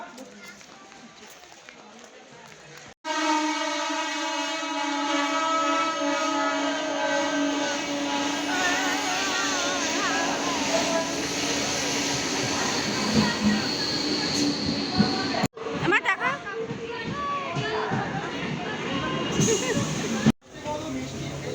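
A Naihati local train runs steadily on its tracks, with a loud, continuous rumble and rattle of the carriages from inside an almost empty coach, broken by a few brief sharp jolts.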